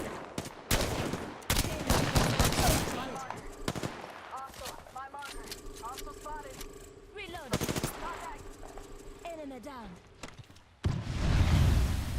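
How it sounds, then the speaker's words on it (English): Gunfire bursts from the video game Apex Legends crack out loud and repeatedly across the clip, mixed with game effects and voice lines. "I'm getting shot at."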